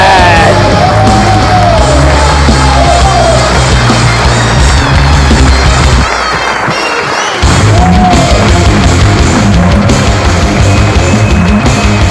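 A large crowd at the Barcelona KeenCon 2023 grand final cheering and yelling for the champion, a loud, dense roar with whoops and shouts. It dips briefly near the middle, then surges back.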